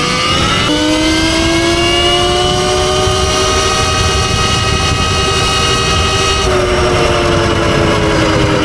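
A Surron electric dirt bike accelerates hard toward top speed, its motor whine rising in a loud, close, tonal sweep that levels off into a sustained high pitch with wind rush.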